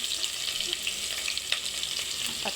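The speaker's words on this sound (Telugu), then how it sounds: "పోపు గింజలు చిటపటలాడుతున్నప్పుడు ఆనియన్స్ వేసుకోవాలి." Tempering seeds and onions fry in hot oil with a steady close sizzle and scattered small crackles and pops, alone without speech.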